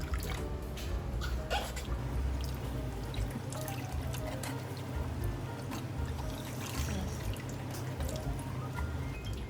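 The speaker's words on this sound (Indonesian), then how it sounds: "Setelah itu kita bilas pakai air. Setelah disikat dibilas lagi." Water rinsing a freshly brushed shoe during wet cleaning, a continuous close splashing and trickling stream with scattered drips, steady and fairly loud with no talking.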